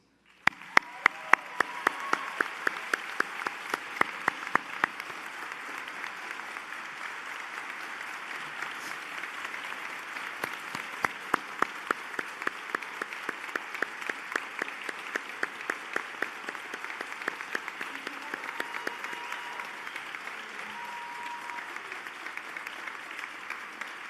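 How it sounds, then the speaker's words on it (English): Audience at a pharmacy school hooding and diploma ceremony gives sustained applause for Dean DiPiro, a dense wash of clapping from a large crowd lasting over twenty seconds, steady and moderately loud with sharp individual claps standing out. "I want you to join me in a grand round of applause"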